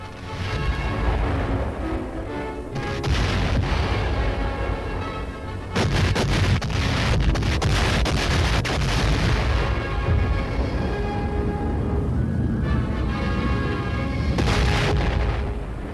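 Naval and air bombardment of Okinawa in WWII archival film: heavy, sustained booms and artillery blasts roll one into another, loud and dense throughout, with a sharp surge of explosions partway through and no talking.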